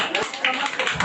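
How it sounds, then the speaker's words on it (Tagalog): A small group claps at a condolence gathering, scattered uneven claps and taps spread across a second, with voices talking over them. "Palakpak kayo ano?"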